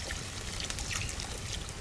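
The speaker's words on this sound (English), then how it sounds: "we add a good amount of water to cover the meat" Water poured into a pot over meat for goulash, a steady noisy splashing pour that continues evenly throughout without pause.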